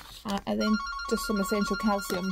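A telephone rings indoors with a steady, tonal repeating tone that continues beneath a person talking throughout.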